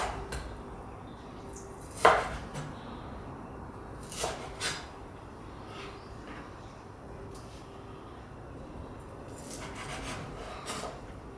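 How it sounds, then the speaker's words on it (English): A knife cuts raw chicken breast into strips on a board, producing a few sharp taps and soft scraping strokes, one louder knock early on, over quiet background. "just cut your chicken breasts like this to strips"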